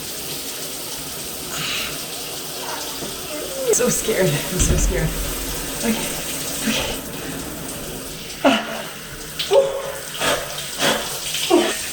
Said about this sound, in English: I'm gonna be brave here and take a cold shower.